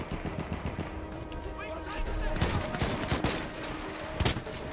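Rapid bursts of gunfire from a weapon in a World War I Cape Helles war game, dense crackling shots clustered in the middle, with scattered clatter and a voice speaking nearby.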